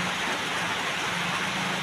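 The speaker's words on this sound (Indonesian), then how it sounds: "subuh di sini hujan deras ya teman-teman" Heavy rain pours at dawn, a dense, even hiss of falling water with no pauses and no voices.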